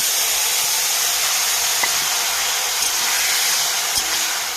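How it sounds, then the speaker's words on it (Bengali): Curry pours into a hot pan and sizzles as a loud, continuous hiss, with a few faint clinks of utensils. "এবারে আমি তরকারিটা ঢেলে দেবো।"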